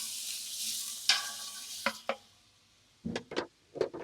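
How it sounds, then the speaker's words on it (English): Onions get stirred into smoked rib meat chili in a pot at a campground, with scraping spoon strokes and brief knocks over a soft sizzle that fades to quiet, then a few more clattering stirs. "Give it a good stir."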